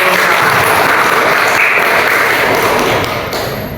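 Classroom applause from students in a madrasah lesson, loud dense clapping that fills the room continuously before tapering off near the end.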